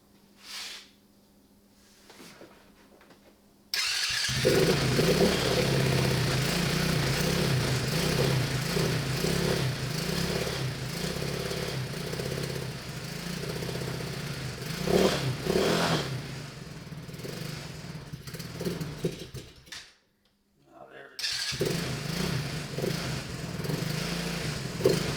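A Chinese ATV engine, just after a carburetor repair and with the choke on, fires up and revs loudly and unevenly. It runs for about fifteen seconds, cuts out briefly, then catches again and keeps revving.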